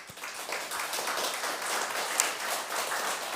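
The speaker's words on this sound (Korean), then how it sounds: "성도의 사랑으로 함께 위로와 격려의 박수를" A church congregation claps in encouragement during a Sunday service, a moderate, fairly steady patter of many hands that swells slightly and holds without talk.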